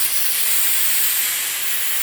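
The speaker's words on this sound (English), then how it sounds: "I'm going to try to get my lines just as white with the steam cleaner" A small handheld steam cleaner hisses steadily and loudly on dirty tile grout, a continuous bright jet of steam without pause or talk.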